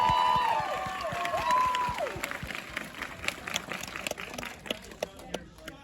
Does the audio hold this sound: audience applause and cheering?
yes